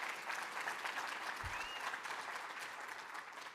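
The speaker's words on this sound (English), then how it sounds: "How about a round of applause for Jonathan Williams," A conference audience at the American Legislative Exchange Council applauds steadily, a dense, even wash of clapping that holds throughout with no talk over it.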